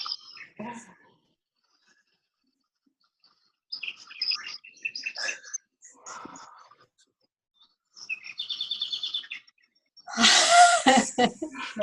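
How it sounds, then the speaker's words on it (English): Recorded birdsong played back from a laptop during an online meeting, with scattered chirps and tweets, a buzzy trilled phrase and a louder rushing burst near the end, separated by quiet gaps. "You have some beautiful birds around you."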